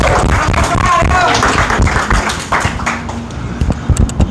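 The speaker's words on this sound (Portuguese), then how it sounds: "Palmas para os nossos 2 atores aqui." A classroom audience at a Sunday Old Testament lesson applauds two actors, with dense clapping up front that thins into scattered claps toward the end, with voices mixed in.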